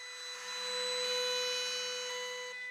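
A power sander hums steadily on wooden coffee table parts, a whining motor tone that rises as it works the surface, then eases slightly near the end, close and alone.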